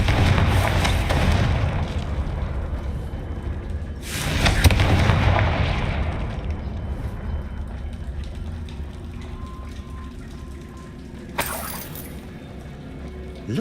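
Confringo blasting spell explosions in Hogwarts Legacy: a loud boom at the start and another around four seconds, each decaying into rumble, then quieter ambience and a sharp crack near the end.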